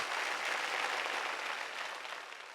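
Studio audience applause on a Telugu TV serial set, a dense, steady wash of clapping lasting a few seconds and tapering slightly at the end.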